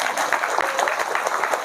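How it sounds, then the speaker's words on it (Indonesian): Crowd applause at a Nahdlatul Ulama gathering, a continuous dense wash of many clapping hands, fairly loud and steady throughout. "Datanglah, tepuk tangan dulu"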